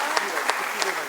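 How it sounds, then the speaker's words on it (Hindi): Audience at a Hindi kavi sammelan poetry gathering claps to welcome poet Shambhu Shikhar, a steady broadband patter of many hands with a few sharper claps standing out. "आइए मिलकर तालियां बजाते हैं"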